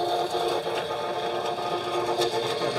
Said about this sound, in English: Gonna turn the plucker on.